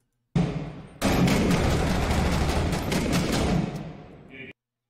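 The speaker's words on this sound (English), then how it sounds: "What are you shooting at, buddy?" Continuous gunfire in the Six Days in Fallujah game, a dense, loud burst of rapid shots lasting several seconds with a brief pause before it resumes.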